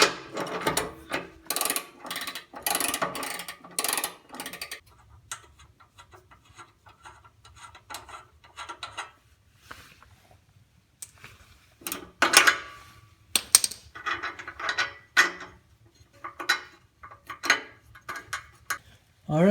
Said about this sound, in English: So I am going to continue now loosening this bolt.